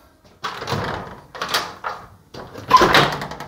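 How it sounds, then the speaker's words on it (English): A slightly raggedy hotel balcony door is slid and rattled open in several scraping bursts, close and fairly loud, with quiet gaps between the movements. "Door's a bit raggedy."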